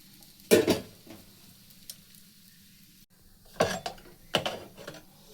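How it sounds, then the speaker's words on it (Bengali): An atta lachha paratha fries in a pan, with a few short bursts of sizzling and scraping separated by quieter stretches of low background hiss. "দেখুন আমি আবার একটা ভেজে নিচ্ছি"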